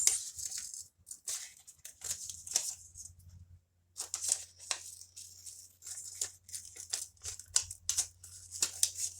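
Scissors snip through paper as shapes are cut out, a quick irregular series of crisp close snips and rustles with short pauses and a low steady hum beneath.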